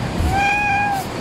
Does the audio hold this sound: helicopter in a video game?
no